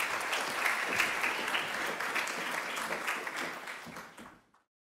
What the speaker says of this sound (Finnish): annetaan heille raikuvat aplodit